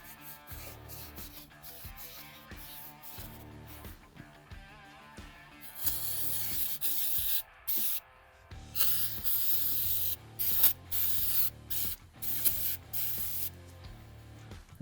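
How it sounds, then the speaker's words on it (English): Emery cloth rubbed against the edges of a bearing cover on an Eaton Fuller transmission gives rhythmic, gritty scraping strokes up close, faint at first and then louder and more continuous, with brief pauses between passes. "Emery cloth your edges so you're not pushing grease in between your gasket and your bearing cover."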